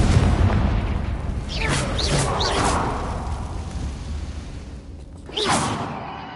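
A Confringo blast spell in the Hogwarts Legacy video game: whooshing magical bursts followed by a booming explosion, with a second louder blast near the end, loud and close.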